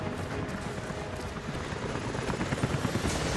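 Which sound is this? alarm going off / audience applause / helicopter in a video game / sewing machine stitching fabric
helicopter in a video game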